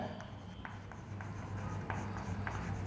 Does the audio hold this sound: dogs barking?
no